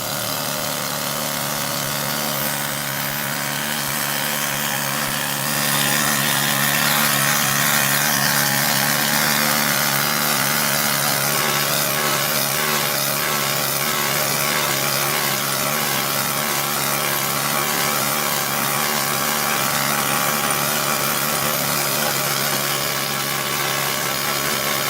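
Needle scaler stripping paint from metal, comparing Harbor Freight and Northern Tools models: a loud, continuous buzzing chatter that runs without a break, close up.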